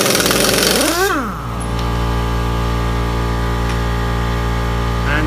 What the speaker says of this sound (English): So we're going to take our impact, make sure it's in reverse, make sure the sockets fit snugly on.